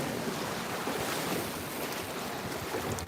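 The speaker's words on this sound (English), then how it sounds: "oh, the waves are breaking over there" Ocean waves breaking on a sand bar beach, a continuous broad wash of surf with heavy wind buffeting the microphone, steady and fairly close throughout with no talking.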